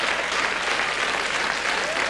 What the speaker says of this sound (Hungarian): nem kell tapsolni